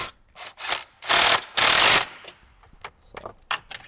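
A screw gun drives bolts while an MB Quart Stage 6 speaker is mounted in a 2018–2023 Jeep JL: two sustained whirring bursts sit between shorter ratcheting clicks and taps, close and fairly loud.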